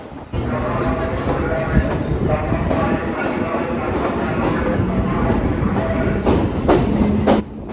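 A Kolkata Circular Rail train rolls along the tracks near the Ganges riverbank with a loud, steady rumble and rhythmic clickety-clack of wheels over rail joints, heard close up from on board, with brief squeals near the end.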